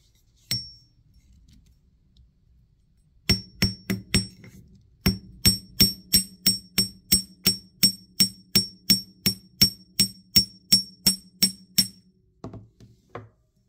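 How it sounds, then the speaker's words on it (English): A small hammer flattens a curve in jewelry wire for a wire-wrapped ammonite pendant. A few scattered metallic taps lead into a steady run of about twenty crisp, evenly spaced strikes, close and alone. "I'm going to go ahead and hammer this little bit of a curve here too."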